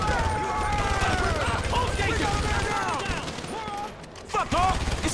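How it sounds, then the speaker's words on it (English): Rapid gunfire from mercenaries in a GTA V shootout crackles almost without pause, loud and close, with a voice calling out over the bursts. "I'd do a lot better at this if I wasn't being shot at."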